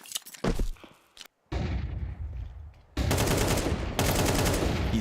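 Rapid gunfire in a professional Counter-Strike match during the first gun round, with sharp bursts and single shots, a brief silent gap, then sustained loud automatic fire and dense shooting that runs to the end.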